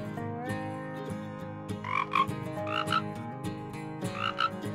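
Cartoon frogs croak in short bursts of bright, bubbly calls over a steady sustained musical background, loud and close, with no talking.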